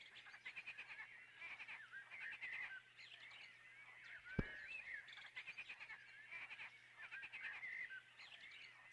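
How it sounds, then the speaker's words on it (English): A bird call in a video game: warbling, chirpy trills repeat in short bursts over a quiet hum, broken by one sharp click midway. "It's a very interesting bird noise they've picked"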